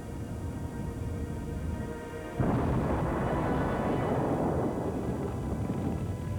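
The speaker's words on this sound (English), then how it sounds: "Suddenly, the town is rocked by an explosion." A sudden heavy boom from an explosion at a bomb assembly building breaks through a low rumble, followed by several seconds of dense, roaring noise.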